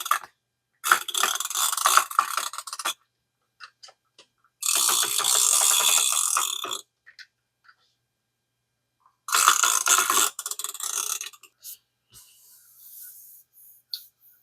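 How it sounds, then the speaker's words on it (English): A tape runner lays adhesive with close, crisp ratcheting clicks in three separate strokes, separated by quiet pauses and a few faint taps. "Do that using my tape runner."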